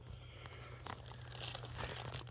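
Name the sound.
crinkling plastic bag as oyster mushrooms are put in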